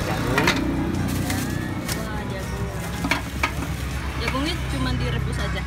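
Sweet corn tipped into melted butter at an Indonesian street food stall, sizzling and being stirred in a pan with scraping clinks, while people chat nearby and traffic hums behind.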